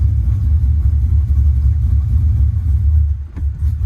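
Pontiac GTO engine running in fourth gear while held on the brake, a loud steady low rumble throughout with a brief dip near the end, no talking.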